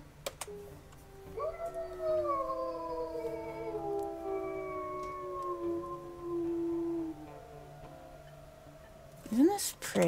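Several wolves in WolfQuest howl in long overlapping sustained tones that rise and slowly fall, layered together across most of the stretch, with a brief sharper rising call near the end.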